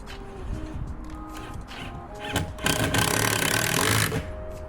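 Screw driven into plywood van shelving through a countersunk hole, a short buzzy whir of a power driver that swells loud for about two seconds near the end, with lighter handling noises before it.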